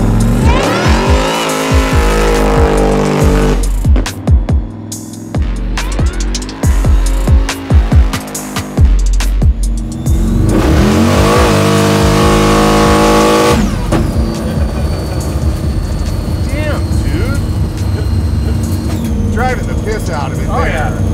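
A daily-driven 1200 hp Volvo launches hard, its engine roaring and revving through the gears with tires spinning and squealing, loud and close, then easing off as the car pulls away.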